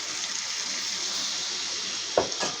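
Water is poured over potatoes frying with spices in a pan, a steady close hiss and gurgle that rises into a brief splashing burst near the end, with no talking.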